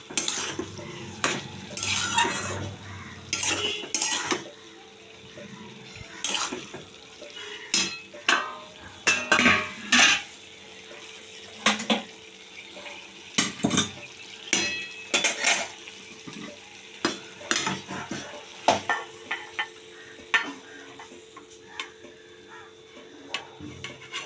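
A Malabar spinach dish (pui mituli) is stirred in a pan, giving repeated scraping and clinking strokes of a utensil against metal in an irregular rhythm, with a faint sizzle underneath.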